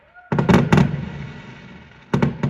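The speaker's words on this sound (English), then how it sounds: "There's lots of fireworks." Bonfire Night fireworks explode in the UK: a quick cluster of loud, close booming bangs, a fading rumble, then another burst of sharp explosions.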